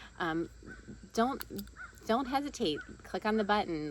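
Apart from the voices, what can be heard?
birds cawing outside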